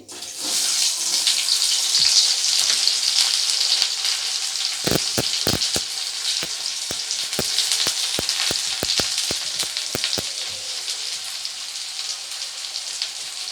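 Chopped onion, whole garlic and chili fry in hot oil for a dried fish curry, a steady loud sizzle throughout, with a run of sharp clicks and taps from a utensil against the pan in the middle.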